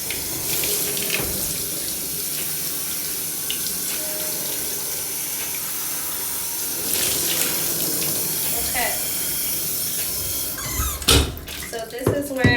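Water runs steadily from a detachable shower head into a tub during hair washing, a continuous hiss with splashing, ending in a few louder knocks and clatters.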